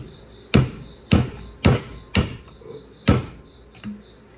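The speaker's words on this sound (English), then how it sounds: "hopefully you can smack it with a hammer and make it split" Five or six sharp, loud metallic strikes of a hammer on a big one-inch chisel, hitting a wheel bearing race to split it while repairing a 1997 Honda Accord, spaced about half a second apart with a fainter final tap.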